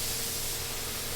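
Steady hiss of cheap turbo spray cans painting a Honda car, a continuous close broadband spray with no breaks.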